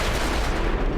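A dense roaring blast from an explosion in XCOM 2, a loud rumbling burst with a crackle that fills the whole moment, with no talk over it.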